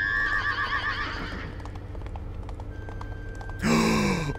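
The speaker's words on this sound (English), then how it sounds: "They saw a huge horse running their way." A horse neighs in the video game Spirit Hunter: Death Mark II, with a high whinny at the start, a quieter stretch of hoof clip-clops, then a second loud, piercing neigh near the end.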